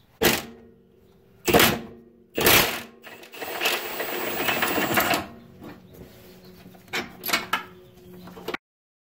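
Torque wrench tightening a bolt during front control arm bushing work on a Honda Accord: several sharp ratcheting clicks in separate bursts, then a longer run of clicking and a few final clicks, close by with no talk.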